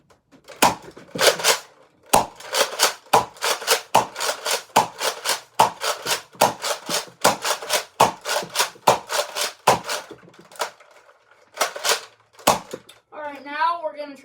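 A Nerf Rival Artemis blaster fires regular Rival foam rounds in a quick series of sharp, close clacks and thumps, repeated many times with brief pauses between bursts, ending with a short mechanical rattle.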